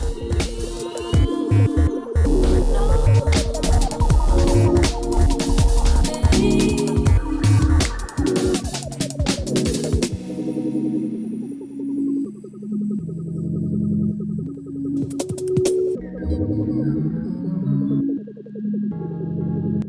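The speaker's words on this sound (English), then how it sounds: "this is where I've landed with making the cuts with the Dremel" A Dremel rotary tool cuts into the bed of an OBS Ford F150 truck, giving a harsh, loud grinding for about ten seconds before settling into steadier, shifting whine tones.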